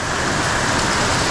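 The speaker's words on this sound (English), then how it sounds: "Bit of hail." Rain with hail pours down in a dense, even hiss and patter, loud and steady throughout, with no talking.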